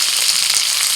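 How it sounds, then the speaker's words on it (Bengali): Whole coriander and cumin seeds, dried chillies and chunky onion pieces frying in a little oil in a kadai, a dense steady sizzle that stays loud and close throughout, with no voices. "কড়াইতে অল্প তেল দিয়েছি, তেলের মধ্যে আমি প্রথমে দিয়ে দিচ্ছি গোটা ধনে আর গোটা জিরে 1 চামচ করে"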